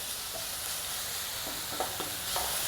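Onions sautéing with salt in a pan while cooking an egg curry, giving a steady soft sizzle with a few faint stirring scrapes, fairly quiet and with no voices.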